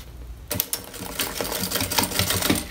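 A sewing machine stitches bias binding onto plastic in a fast, steady rattling run that starts after a brief quiet moment and continues close and clear.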